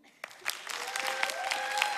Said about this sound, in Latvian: Jūsu aplausi?